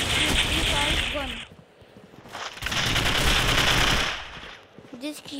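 Gunfire from a weapon in the mobile shooter Critical Ops, loud sustained bursts of rapid automatic shots with a short pause in between, while someone talks over the action.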